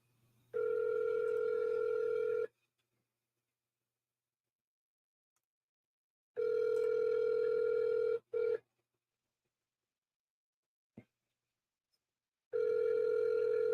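Ringback tone of an unanswered phone call, three long steady tone bursts of about two seconds each separated by several seconds of silence, with a faint brief click between them.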